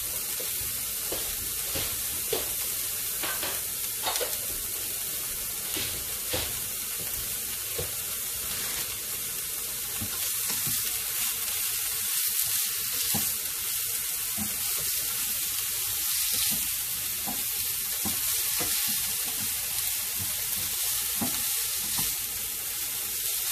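Diced onions sizzle and fry in a pan, a steady, fairly loud hiss with occasional stirring clatter, heard alone and close.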